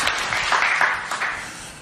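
Congregation applause during a church testimony service, a steady, dense wash of many hands clapping throughout, fairly loud and close with no talk over it.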